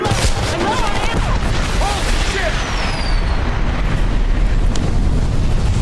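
Dense gunfire and blasts in the video game Homefront, a loud continuous barrage with booming wash and wind-like roar throughout, no clear pauses.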